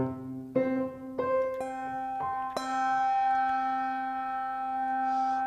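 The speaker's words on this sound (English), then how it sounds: "Bells have something what's called overtones, and those are pitches that are above the foundation." A large bell tuned to C is struck several times, each strike leaving a sustained ringing tone rich in higher overtones that overlap and decay slowly, loud and close with no talking.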